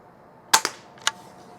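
A Barra Junior 1866 single-pump pneumatic air rifle with a smooth bore barrel fires with a sharp crack, followed by a quick second report and another clean shot a moment later, all close and loud against a quiet background.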